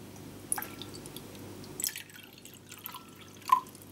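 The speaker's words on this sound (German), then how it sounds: "als erstes fülle ich 90 Milliliter destilliertes Wasser hier in den Messbecher" Distilled water trickles into a measuring cup in a few separate drips and splashes, close and fairly quiet, with a bright droplet near the end.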